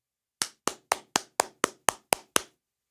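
Nine sharp, evenly spaced hand claps ring out alone in a quiet room, close and crisp, imitating a basketball player clapping on the court.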